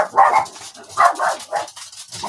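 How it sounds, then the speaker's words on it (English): Several dogs bark excitedly in short bursts, roughly four loud volleys across two seconds, fairly close, with some whimpering yips between, during gusty wind that is rattling doors. "the wind's blowing the doors and the dogs are going crazy"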